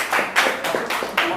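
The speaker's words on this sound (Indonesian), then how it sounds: "Ya, kasih tepuk tangan." A few people clapping hands in a classroom after a student presentation, with several distinct, close claps in an uneven rhythm over a brief moment.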